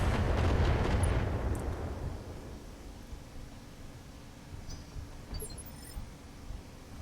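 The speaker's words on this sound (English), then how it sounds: "Missiles." Missile fire and explosions in BattleTech: a loud rushing, roaring blast with a booming low end opens the clip and fades over a few seconds into a dusty hiss with faint scattered crackles and thuds.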